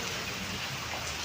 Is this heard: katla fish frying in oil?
no